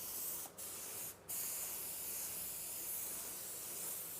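A spray gun lays paint onto a car panel in a steady, close hiss, cutting out briefly twice in quick succession before running on continuously; no talk.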